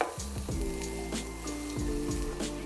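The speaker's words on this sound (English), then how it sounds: "I'm gonna go in with 1 onion that we've diced, and I'm gonna fry that off" Steady sizzling of diced onion frying in hot oil, close and continuous, with a few stirring scrapes and clinks along the way.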